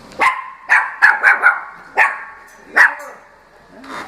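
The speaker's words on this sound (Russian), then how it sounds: "Собачка каже гав-гав." A dog barks in a series of sharp, close, loud woofs, several quick ones in a cluster followed by a few spaced single barks, with no talking over them.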